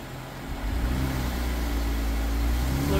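A truck engine in two-wheel drive drones and revs at moderate volume while stuck in thick Georgia mud, the low rumble swelling slightly and holding steady throughout.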